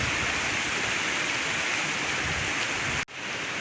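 Heavy monsoon rain pours steadily near a dense forest, a loud unbroken hiss with no voices, cutting off abruptly near the end before resuming more softly.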